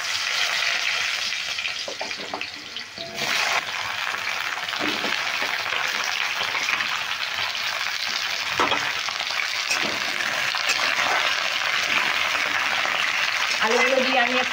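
Cut potatoes sizzle loudly in hot oil in a pan for a Bengali cabbage curry, a constant close frying hiss with occasional scraping stirs and a faint voice underneath.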